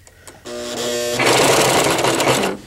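A sewing machine fitted with a walking foot stitches stretchy diaper fabric, running in a steady mechanical whir of quick even needle strokes that starts after a short pause and holds loud and close until it stops near the end.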